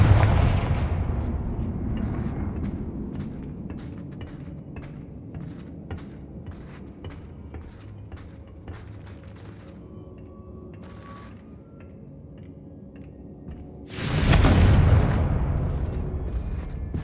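In Hogwarts Legacy, a Confringo blasting spell lands as a sudden loud burst near the end, rising out of a rumbling game soundscape scattered with sharp ticks and clicks.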